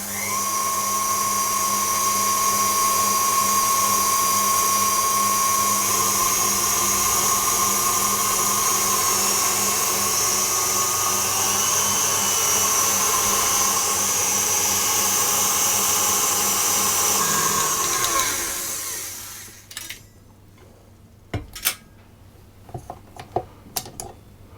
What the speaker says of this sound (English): there we have soft peaks quite quickly, so I'm going to continue whisking